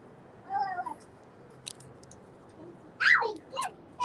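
A cat meows twice at close range, a short call early on and a louder, drawn-out meow near the end, with quiet room noise between.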